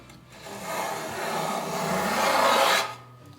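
Hand tools rasping and shaving a wooden Greenland paddle, one continuous close filing stroke that builds over about three seconds and then stops abruptly.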